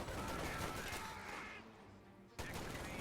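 Sustained M2 Browning heavy machine gun fire in the real-time strategy game Company of Heroes 2, a dense continuous rattle that tapers off, then resumes abruptly at full loudness.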